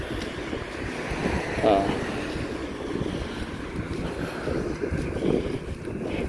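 Cold, strong wind buffets the microphone outdoors beside the ICC compound in The Hague, a steady low roar across the whole clip with brief faint voices breaking through.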